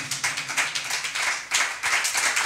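A church congregation applauds in praise during a sermon, a steady run of moderately loud hand claps with an uneven rhythm, close and without talk.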